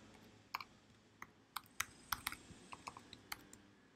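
A new password being typed on a computer keyboard: a dozen or so sharp, separate key clicks at an uneven pace over a quiet room hiss, close and fairly soft.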